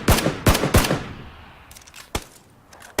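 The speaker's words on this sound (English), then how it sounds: "so I'm shooting at him." Gunfire in the battle royale video game PlayerUnknown's Battlegrounds: about five sharp, loud shots, three quick ones close together, then two more spaced out after a short lull. No one speaks.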